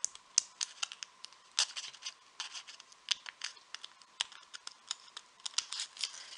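Scissors snip through paper while cutting out the centre of a paper heart garland, giving a quick, irregular run of crisp close snips and rustles with no talking.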